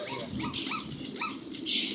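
A Zoomer robot dog gives several quick, small electronic barks and yips at close range, with faint background noise between them.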